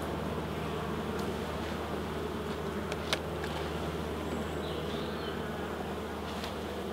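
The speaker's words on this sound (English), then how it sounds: "clear them little bees off of there slowly, they get out of the way" Honey bees swarm around an open hive, their steady, dense buzzing close and constant, with the odd faint click of equipment underneath.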